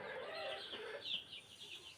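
Young desi chicks being vaccinated give a quiet run of high peeping clucks close at hand, faint and continuous.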